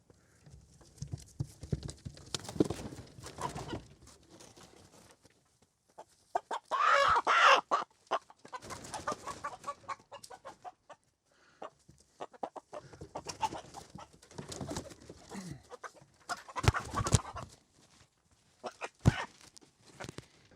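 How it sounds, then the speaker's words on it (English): Roosters cluck and squawk in scattered bursts, with scuffling, flapping and thumping close by as the birds are handled. "As you can see, we have way too many extra roosters."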